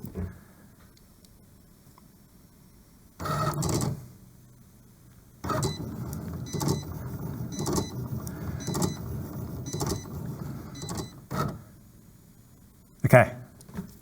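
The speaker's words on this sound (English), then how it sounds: "Now the machine's going to go through its pre-feed cycle" Cricut cutting machine pulling material through its pre-feed cycle while making a custom wine bag, giving short whirring motor bursts and clunks separated by quiet gaps, close by.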